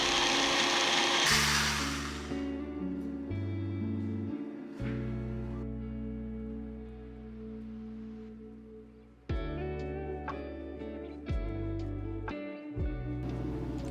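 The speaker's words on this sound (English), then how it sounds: "These small blenders are space-saving and highly versatile, perfect for blending or grinding in small quantities." A small space-saving kitchen blender grinds in short pulses, a steady motor whine that cuts on and off in several bursts, heard alone without talk.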